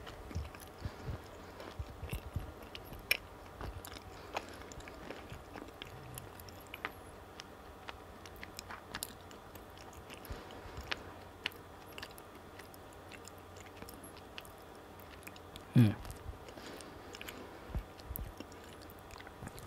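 Soft chewing of a daifuku, a thick, chewy mochi rice cake filled with smooth koshian red bean paste, from Kashiwaya of Fukushima; quiet close mouth sounds with faint bites and a sharper moment near the end, no talking.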